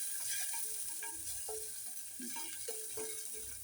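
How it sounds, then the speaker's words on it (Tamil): Ginger sizzles softly in a small amount of oil, with a steady, faint frying hiss and a few light clinks and scrapes from stirring. "இந்த இஞ்சியை போட்டு ஃப்ரை பண்ணுவோம்"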